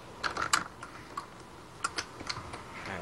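Short, irregular bursts of computer keyboard typing, quiet and close, with brief pauses between clusters of keystrokes while coordinates are entered for a Minecraft game.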